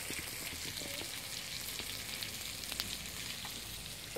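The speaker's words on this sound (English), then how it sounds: "Just let it fry off." Lamb seasoned with turmeric and veggie salt sizzles steadily in a pan for a Samoan-style stir-fry, a constant close frying hiss with faint crackles and no voices.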